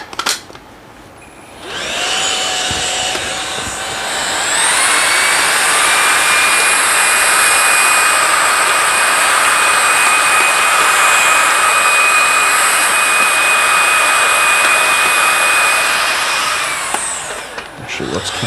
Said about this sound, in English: the vacuum going.